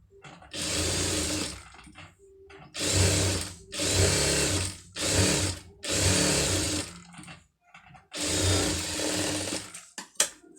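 A sewing machine stitches around a pom pom design on a garment sleeve, running in several loud sustained bursts separated by short pauses.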